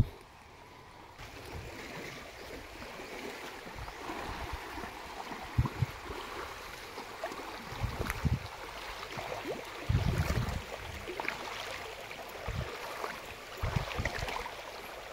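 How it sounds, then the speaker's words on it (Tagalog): A river flowing through a forest, its moderate, steady watery rush accompanied by occasional thumps and knocks close by, with no voices. "Ito may nadaanan kaming ilog."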